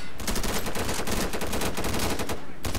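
Sustained heavy gunfire in the Insurgency video game on the District map, a dense continuous barrage of loud close shots for nearly three seconds.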